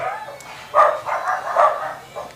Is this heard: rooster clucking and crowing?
no